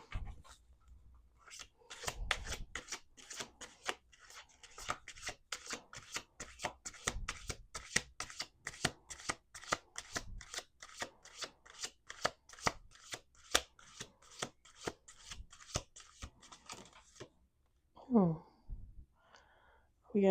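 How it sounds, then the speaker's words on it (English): Playing cards are shuffled in a long, rapid run of crisp riffling flicks close to the mic, ending with a quiet breath or murmur. "Let's do 1 more shuffle."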